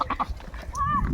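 A goat lets out a single wavering bleat near the end, close by, after a few soft rustles and low background noise.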